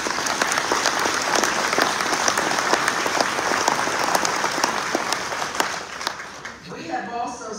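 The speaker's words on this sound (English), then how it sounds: "Please give him a round of applause" An audience at the Atlantic City State of the City address applauds Chief Sarkos with loud, dense clapping and sharp individual claps, fading near the end as a voice begins speaking.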